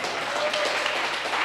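A church congregation applauds together, a dense burst of clapping that fills the room briefly, with a voice present over it.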